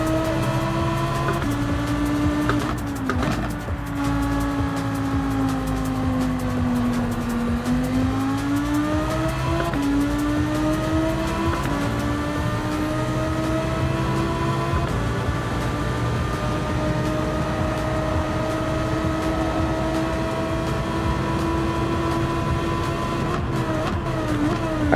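Race car engine in a racing video game during a fast lap, a loud continuous whine rising and falling through gear shifts, steady and close throughout with no voices.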